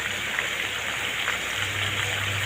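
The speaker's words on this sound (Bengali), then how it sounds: "সর্ষে তেলের মধ্যে মাছের পিসগুলো ভেজে নিচ্ছি।" Pieces of fish frying in mustard oil at medium heat, a steady dense sizzle with a soft hiss and crackle that holds throughout, close and alone without talk.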